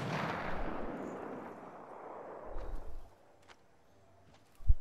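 A distant rumbling blast of gunfire in Apex Legends that rolls out and fades over a few seconds, followed by faint ticks and a sharp thump near the end, with no talk.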